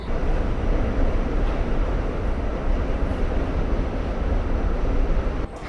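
Steady, loud rumbling roar of a subway train in motion on the way to Coney Island, with constant rattling and no voices, ending with a slight drop near the close.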